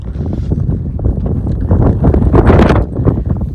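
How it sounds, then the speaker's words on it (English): Strong wind roars against the microphone along a path near Willis Creek and Zebra Slot Canyon, in heavy, uneven gusts, loud and close, swelling toward the middle. "And it's windy. It's windy."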